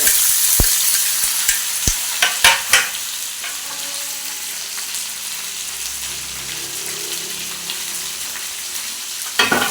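Onions and tomatoes with green chili fry in a pan, crackling and sizzling steadily up close, with sharp spatter pops and clicks of stirring scattered through.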